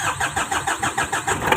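A Mitsubishi L300 diesel engine cranks over in a quick pulsing rhythm and catches, close and fairly loud, with no voices.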